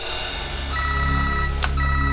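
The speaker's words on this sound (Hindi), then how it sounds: "एसपी साहब का फोन है।" A telephone ringing with an electronic ringtone, a steady repeating tone pattern heard alone and fairly prominent, with a brief sharp click near the end.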